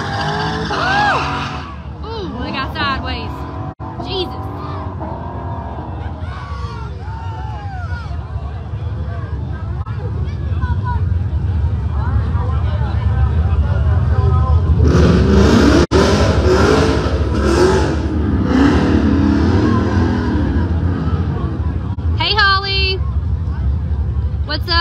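Drag racing cars at Jake's Dragstrip make loud, continuous engine roar with revving bursts and tire noise, steady through the whole stretch with crowd and voices mixed in.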